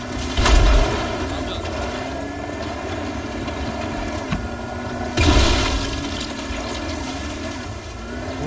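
Explosions and gunfire in Dying Light The Following, a zombie action game: two heavy booming blasts, one near the start and one past the middle, over a steady rumbling game backdrop.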